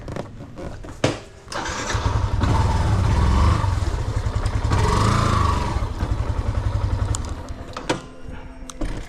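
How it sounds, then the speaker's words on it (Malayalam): A motorcycle engine starts up close by and runs steadily, throbbing and revving slightly for several seconds before dying away. Sharp clicks and knocks are heard near the start and the end. "ഓക്കെ, ബൈക്ക് എടുത്ത് പുറത്ത് വയ്ക്കാം"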